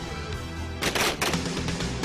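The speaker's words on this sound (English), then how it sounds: "short fire bursts." Commando firearms fire a short burst during close-quarter combat training, a loud sharp volley of rapid shots over steady background noise.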